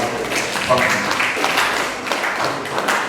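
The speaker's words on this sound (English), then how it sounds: "This is their clapping" Guests at a wedding reception clap steadily throughout, a dense, continuous patter of applause filling the room with voices mixed in.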